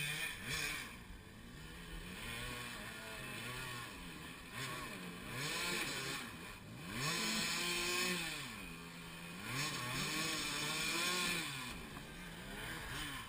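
A motorcycle engine revs hard and repeatedly during a brake stand on a hill, the pitch rising and falling in long wavering sweeps, loud and sustained, with no talk.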